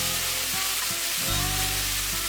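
Beef stock poured into a hot pan of frying shallots and garlic, giving a loud, steady sizzle that surges as the liquid hits, with faint stirring clatter underneath.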